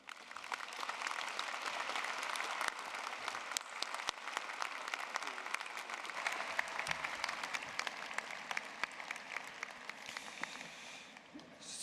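Long, steady applause from a ceremony audience at a university health professions event, a dense rain-like patter of many hands with sharp individual claps, fairly distant and soft, fading near the end.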